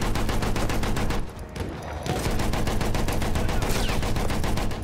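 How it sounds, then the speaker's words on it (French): Rapid, dense bursts of machine gun fire rattle continuously, briefly pausing for a second before resuming at a relentless pace, in the video game Battlefield 1. "le son de la mitrailleuse"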